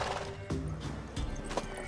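Horse hooves clip-clop in a quick rhythm with a neighing whinny in The Witcher 3 video game, close and fairly clear against a busy game soundscape.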